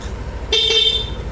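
A single short stock horn beep from a Yamaha NMAX scooter, close and clear, over a low idling engine rumble.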